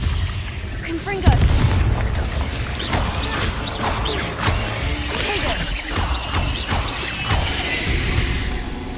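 A Confringo blasting spell explodes in a Harry Potter-style video game, a sharp booming blast followed by crackling, crashing debris and a dense, busy background of game effects, with a voice speaking over it.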